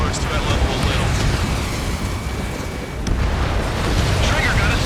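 Booming explosion rumble from the destruction of a pulse laser cannon in the jet combat game Ace Combat 7, a loud sustained roar with a sharp burst near the middle, voices talking over it.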